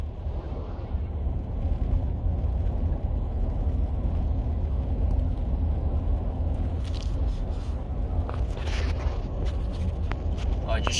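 Car with a 6L80 automatic transmission full of metal and a failing torque converter clutch, slowly accelerating on light throttle: a low, steady engine drone from inside the cabin with faint knocks and rattles toward the end.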